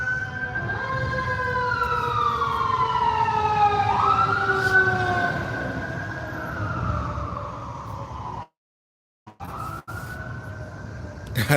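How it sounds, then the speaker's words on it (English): Several wailing emergency sirens sweep up and down over each other with a rumbling engine beneath, loud and close, then cut out briefly before traffic noise resumes. "And then we'll let the sirens pass."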